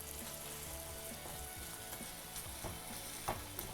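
Paneer masala for a street-style dosa sizzles and fries in a pan while being stirred and broken up, a steady close crackle with occasional scraping spoon strokes, no talk.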